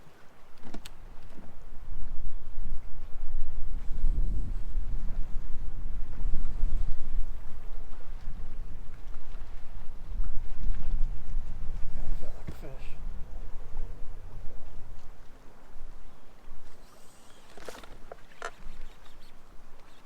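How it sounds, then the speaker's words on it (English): Strong wind at 25 to 30 miles an hour buffets a boat on Lake Lanier, with a rough, surging roar of gusts on the microphone and faint water and boat noise, loud and close throughout. "Wind's blowing, it might be 25,"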